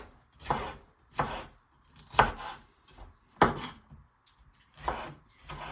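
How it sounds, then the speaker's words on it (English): A knife chops vegetables on a cutting board while a cheesy breakfast casserole is prepared: about seven distinct, unhurried thwacks spaced roughly a second apart, close and fairly crisp. "It doesn't really matter which way you chop them, because I'm going to end up chopping everything up."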